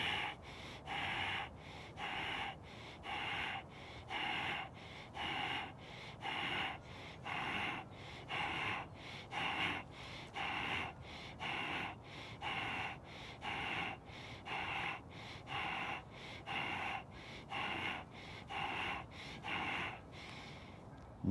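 Rhythmic deep breathing, slow inhales and exhales repeating steadily for the whole stretch with a breathy, snorting texture, close and fairly quiet during a seated dynamic tension breathing exercise.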